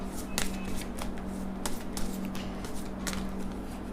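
A True Love oracle card deck is shuffled nearby in quick repeated flicks and slides, over a constant electrical hum.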